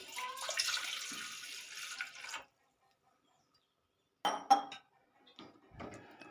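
A cup of water pours into a pot for about two seconds, followed by silence and then a few clinks of the pot and lid.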